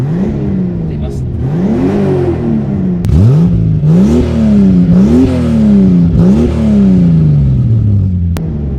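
A Toyota Supra engine revs hard in repeated surges, its pitch climbing and dropping several times over about nine seconds, loud and close with a throaty rumble underneath.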